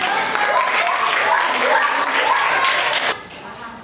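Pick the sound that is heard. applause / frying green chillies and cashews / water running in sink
applause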